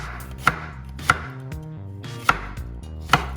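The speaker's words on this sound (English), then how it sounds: "We're gonna start chopping the vegetables. Start by the zucchini." Four sharp knife strikes through a round zucchini into a cutting board, evenly spaced about a second apart, each a crisp close thunk over steady background music, with no voices.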